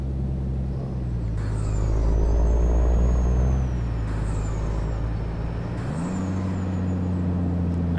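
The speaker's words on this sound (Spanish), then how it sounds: "Suena poco el freno motor, pero suena bien" Simulated Kenworth T800 truck engine brake in Euro Truck Simulator 2, on hilly roads in Colombia near Sasaima, Bogotá and Silvania, heard as a steady low diesel drone that deepens and swells for a few seconds and then settles, with a faint whine above it.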